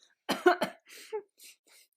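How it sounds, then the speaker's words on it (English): A single sharp cough, close and loud, followed by a few softer breathy throat sounds and small gasps. "That cough was just me."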